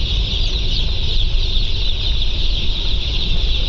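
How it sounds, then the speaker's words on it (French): Day-old broiler chicks just delivered to a poultry farm cheep in a dense, continuous high chorus, the crowd of peeps steady and close with no talk. "nous venons de réceptionner nos poussins pour après les fêtes"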